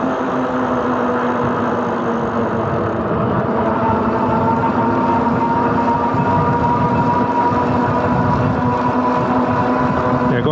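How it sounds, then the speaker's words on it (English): A Velotric Nomad 1 electric bike's hub motor whines steadily in assist level 3 near 15 mph, a constant tonal hum over rolling road and wind noise. "The motor whines a lot louder, and I'm approaching about 15 miles an hour in level 3."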